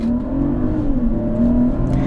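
A Mercedes GLE 450 SUV in sport mode holding about 2,200 RPM against the brakes before launch; a close, steady engine drone with rising harmonic tones, no talk.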